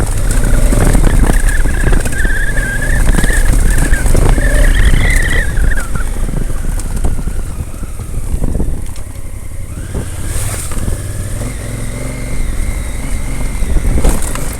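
A Honda Africa Twin 1100cc motorcycle ridden at Khangsar in Manang, its engine roaring loud and close with a rising, shifting whine as it revs and accelerates, wind noise heavy throughout.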